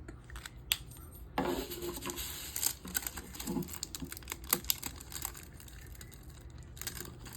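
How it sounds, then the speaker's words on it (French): A small utility knife slices through plastic in a series of short scraping cuts and crisp clicks, fairly close and alone with no talking. "je vais prendre mon petit cutter. Je vais venir couper. Bon, j'ai beaucoup de plastique."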